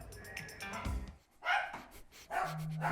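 Senior dogs at a rescue retirement home in Foster, Rhode Island bark in short, separated bursts, a few sharp barks and yips at moderate distance with quieter gaps between.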